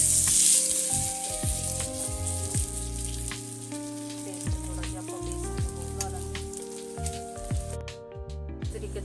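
Besan-coated bread sizzles and fries steadily on a hot griddle, a continuous close crackle broken by occasional spoon taps and scrapes, with music playing throughout.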